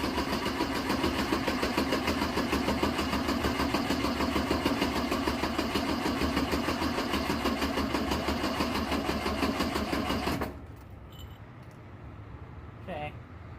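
A Ford Mustang engine with a freshly cleaned carburetor cranks in a long, fast, rhythmic churn close by, then cuts off abruptly near the end, leaving a quiet stretch with faint clicks.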